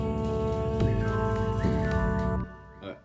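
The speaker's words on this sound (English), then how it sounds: "Sorry, not flute, trumpet." A bright brass trumpet plays a sustained melodic phrase with a few note changes, loud and close, fading out near the end.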